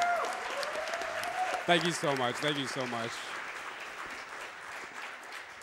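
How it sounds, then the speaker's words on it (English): Gaming marathon audience at AGDQ 2018 applauding a speedrunner after a Bloodborne all-bosses run, steady broad clapping throughout, with someone speaking over it near the start. "So can we get a round of applause for him"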